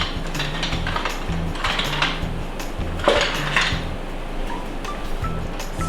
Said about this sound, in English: Stir these up a little bit